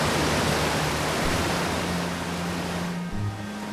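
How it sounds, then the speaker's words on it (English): A loud, steady rush of water in the space game Outer Wilds, a broad, constant roar like heavy surf that fills the whole clip and eases slightly near the end, with no voices. "Man, the water is so loud in this game."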